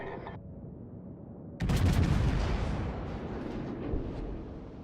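A heavy naval gun salvo fires in World of Warships: one sudden loud blast bursts in after quieter ambience, then a long rolling rumble fades away.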